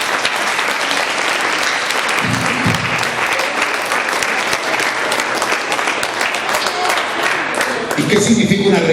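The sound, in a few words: applause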